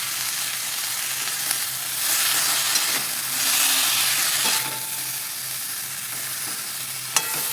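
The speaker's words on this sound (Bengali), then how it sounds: "শাকটা আমি দিয়ে দিলাম। দেখুন বন্ধুরা নেড়ে চেড়ে দিলাম একটুখানি।" Pumpkin greens being stirred as they fry in a pan for a lentil chachchari, a steady broadband sizzle with soft scraping strokes and a few light clinks, close and moderately loud, no voices.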